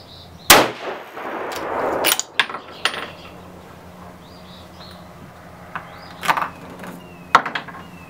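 A 7mm RAUM rifle firing 180-grain Berger bullets from a front rest and rear bag outdoors: one loud, sharp shot followed by a few further impacts and clanks, with faint birdsong in the background.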